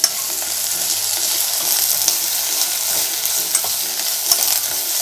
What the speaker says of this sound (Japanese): これはもう強火でガッと炒めてください